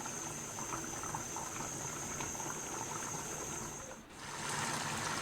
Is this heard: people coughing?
no